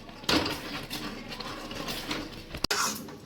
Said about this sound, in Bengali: আমি এখন আরেকটু হাতা আমি নাড়িয়ে যাব।